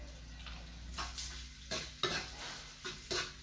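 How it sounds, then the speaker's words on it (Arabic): Macaroni and egg being stirred in a frying pan over a steady low sizzle, with a few louder utensil scrapes against the pan; no talking. "دابا غنضيفو كلشي في المقلة ما نحبسوش من التحراك"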